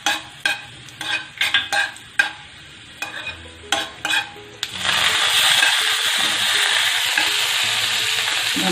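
Thin garlic flakes frying until brown for tomato shorba: a series of quick spoon scrapes and taps in the pan, then a loud, steady sizzle that fills the last few seconds.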